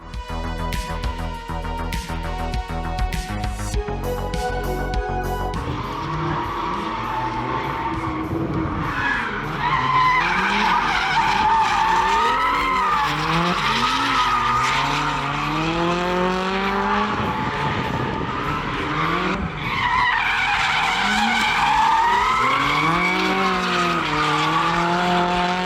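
A modified BMW E46 driven hard, its engine revving and rising in pitch through repeated runs as the tires skid and squeal loudly, close by, with no talk.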